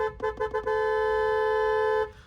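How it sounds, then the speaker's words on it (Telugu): A car horn gives several short toots, then one long sustained blast of about a second and a half, loud and close, with no talking. "హారన్"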